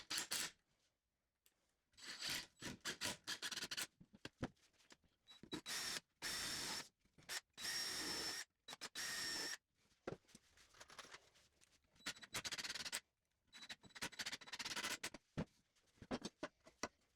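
Power drill driving screws into 2x4 wood for a bench, heard as repeated short bursts of whirring and grinding separated by pauses, fairly close with no talking.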